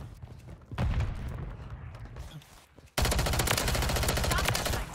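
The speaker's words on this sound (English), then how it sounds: "Throwing Semtex." Heavy automatic gunfire in a Modern Warfare 3 multiplayer match with a Striker 9 loadout as a Semtex grenade is thrown: a loud burst in the first seconds, a lull, then a sustained, dense barrage of close shots.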